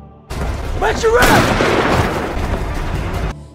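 A police officer's gunshot in a film scene about a prison escape: a sharp, loud blast that cuts through shouting voices, followed by a dense, rumbling tail.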